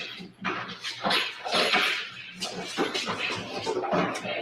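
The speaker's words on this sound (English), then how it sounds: "Y'all hear my dog over there trying to break down his damn bones." A dog works at bones, producing continuous wet chewing, crunching and snuffling with occasional whimper-like squeaks, fairly close and steady over several seconds with no talk.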